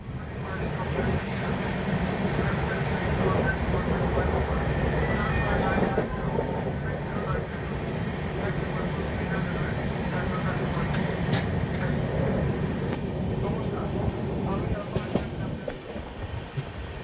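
Howrah Rajdhani Express running at speed across the Yamuna river, heard from inside a coach as a steady low rumble with rhythmic wheel clatter over the rails, moderately loud, while a voice talks over it.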